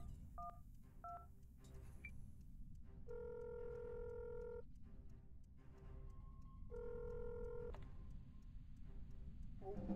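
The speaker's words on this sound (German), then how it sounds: "Dann legen wir gleich los mit einem Notruf." Phone keypad tones sound in short beeping bursts as an emergency number is dialed in the video game Accident, alone with no talk and a quiet background.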